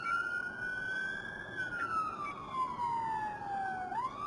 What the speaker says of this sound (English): I imagine the units up ahead might well hear the siren shortly.